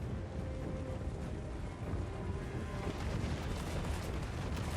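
Grenade launchers in a Total War Warhammer 3 battle fire into a dense, continuous din of booming shots and explosions, heavy low rumble layered with distant battle noise throughout.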